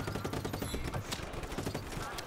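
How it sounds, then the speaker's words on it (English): Rapid bursts of gunfire crackle through a chaotic firefight in the Just Cause 3 video game, dense and continuous with overlapping shots and game sounds, a voice briefly audible beneath. "Somebody's shooting at me."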